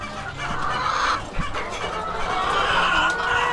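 Hungry chickens in their coop cluck and murmur continuously at close range, with overlapping calls and faint rustling from the flock.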